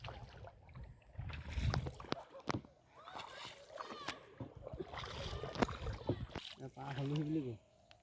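A wooden rowboat crosses a river, with paddle splashes and water sloshing against the hull close by, and people talking over it.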